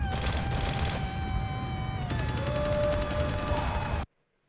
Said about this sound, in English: The ruckus sounds like gunfire.